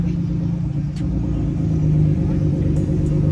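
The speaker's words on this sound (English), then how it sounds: "This car is fighting for traction here." An upgraded-turbo Nissan Z at the ZCON 2024 drag event gives a continuous close, loud engine rumble with a rising rev toward the end, and no voices.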